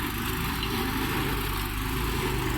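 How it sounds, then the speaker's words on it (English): Stump grinder working a big poplar stump in a garden corner beside a wall, a loud continuous engine roar and grinding drone that holds steady and close throughout. "the one in the corner which Josh is just stone grinding"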